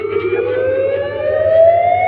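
A Power Zone sound system plays a 440 hertz test tone during a frequency sweep at a sound check: a loud, pure, sustained tone gliding slowly upward in pitch, with a faint low hum beneath and no voices.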